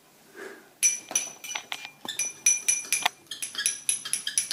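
A spoon clinks and scrapes rapidly against a dish while water is mixed into homemade gouache paint, a close, irregular series of bright metallic taps and chinks.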